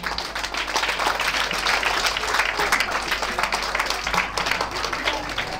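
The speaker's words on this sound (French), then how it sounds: "Les enfants, acclamez pour vous-même." Schoolchildren at an excellence-day ceremony at a private school in Benin break into a dense, sustained round of applause, loud and close, with steady clapping from many hands throughout and a faint murmur of voices beneath.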